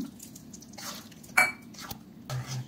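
A bowl is rinsed and water poured into a pan of creamy Mughlai chicken gravy, heard as soft clinks of the dish, splashing pours and drips, close and fairly quiet with no voices.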